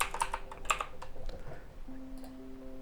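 A computer keyboard is typed on in a short burst of quick, light key clicks that stops after about a second, leaving a faint hum.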